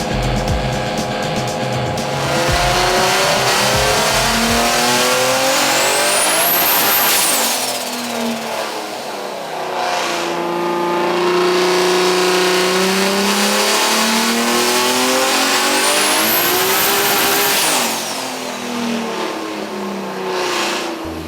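An 800 hp VG30 twin-turbo engine in a Nissan S13 Silvia running on a dyno, loud sustained wide-open pulls rising in pitch to a peak, then backing off, twice over, with a sharp engine roar filling the space.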